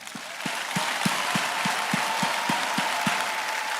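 A church congregation applauds at a service, a dense sustained wash of clapping with a few louder, evenly spaced claps standing out near the front.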